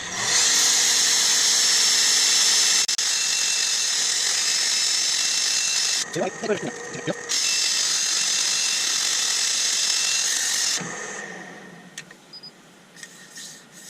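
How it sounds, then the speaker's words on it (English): Loud, continuous whirring of a spinning lathe with 180-grit abrasive rubbing against a small oak bowl, a short rattling interruption partway, then the motor winds down. "Got a bit of sanding to do, but let's get on with it."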